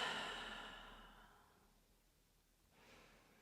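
A slow, soft exhale through the body during a seated breathing exercise, fading gently over a couple of seconds, followed by a faint intake of breath, quiet and close.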